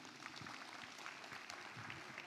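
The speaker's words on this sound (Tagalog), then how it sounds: "Palakpak naman po." Audience applause at a school program, a steady wash of clapping filling the whole stretch at a faint, distant level with no voices on top.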